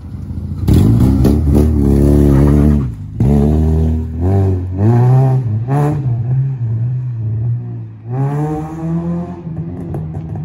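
A car engine revs hard and then settles into a steady idle while the car is moved out of a driveway. Loud, rising and falling pitch bursts come through early, then lighter revs before the engine holds at a rumbling tone.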